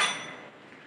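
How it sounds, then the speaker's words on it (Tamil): A single bright metallic clang of metal cooking vessels rings out at the start, then slowly decays into a fading shimmer, close by and alone. "இது பாத்திரம் சவுண்ட் தானே கேட்டுச்சு."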